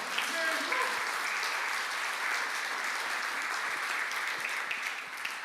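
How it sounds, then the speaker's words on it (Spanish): A church congregation applauds during a Sunday sermon, continuous even clapping from a crowd with a few voices calling out briefly near the start. "Dale un aplauso al Señor"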